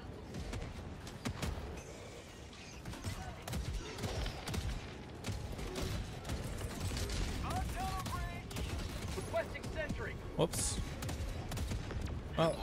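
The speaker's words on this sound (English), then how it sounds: "There's an auto cannon." Autocannon sentry firing in the video game Helldivers 2, a run of heavy mechanical gunfire bursts amid battlefield clatter and other weapon noise, loud and continuous throughout.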